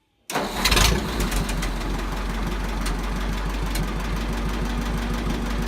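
Ford 800 tractor engine starts abruptly and settles into a steady, loud idle with an even rhythmic chug, running alone close by.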